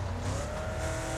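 A car stuck on a dirt track in a racing video game spins its tires, the engine roaring loud and continuous with a high whining tone throughout.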